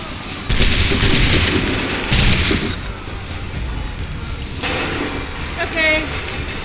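Heavy cannon fire booms in Assassin's Creed 3, a few loud blasts in succession with rumbling tails, and a voice talks over the battle.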